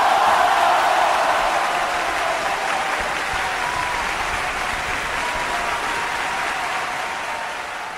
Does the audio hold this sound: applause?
yes